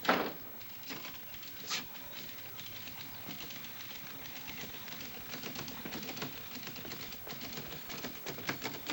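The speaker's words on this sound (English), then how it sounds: "I've been practicing my typing on my time off." Typewriter keys clatter in quick, irregular bursts in a 1950s film scene set on a tropical island, a steady close tapping with sharper strikes at the start.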